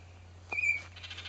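A single sharp, high chirp from an anxious parent bird calling near its baby, brief and fairly close, followed by a few fainter, softer notes against quiet outdoor background.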